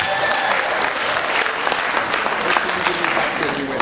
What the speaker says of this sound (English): Give me a round of applause for that.